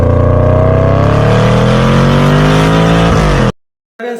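A Yamaha R15 V4 motorcycle engine revs loud and close with a rising whine for about three and a half seconds, then cuts off abruptly into a brief silence before the sound resumes faintly.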